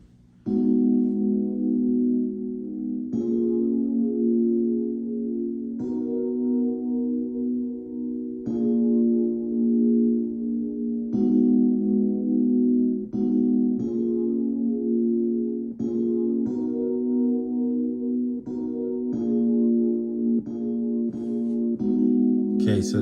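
Simple synth pattern built in AUM, repeating short sustained chords in a steady rhythmic loop, clear and close with no other sounds.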